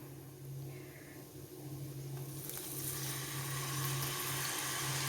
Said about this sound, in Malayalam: തീ ഓഫാക്കിയിട്ടാണ് വിനാഗിരി ഒഴിക്കുന്നത്.